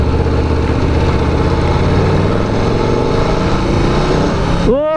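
Aprilia Tuono V4 Factory hyper-naked sportbike engine roaring steadily while riding, loud and close with wind buffeting, climbing through the gears and ending in a rising rev sweep.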